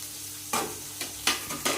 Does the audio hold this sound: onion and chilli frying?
yes